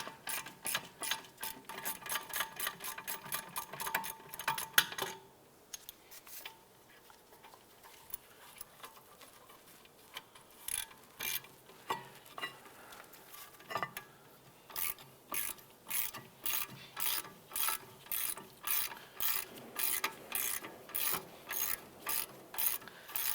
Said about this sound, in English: Go ahead, loosen and remove this bolt.